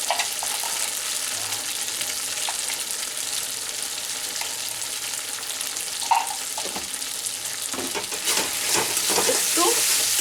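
Pointed gourd cooks in a pan with a little water, cumin powder and coriander powder, giving a continuous close sizzle. Scattered scrapes and taps of stirring grow busier toward the end.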